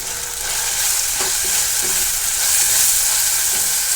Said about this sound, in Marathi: टोमॅटो देखील मी व्यवस्थित फ्राय करून घेणार आहे